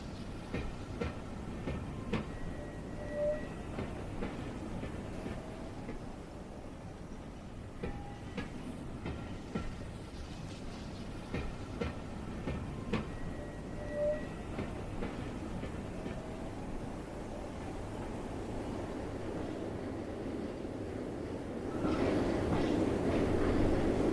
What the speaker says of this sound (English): A further short run and the freight train branches off